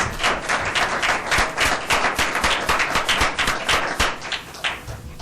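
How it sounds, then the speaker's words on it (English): An audience at an annual membership meeting applauds for Joe Bonarito, dense sustained clapping from a sizeable crowd filling the room for several seconds. "if there is somebody who deserves actually a big, big round of applause here tonight, it's Joe Bonarito"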